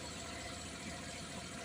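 A motorcycle engine idling steadily, its running engine feeding the alternator to charge a phone, a constant dense mechanical hum with no change in pitch or level.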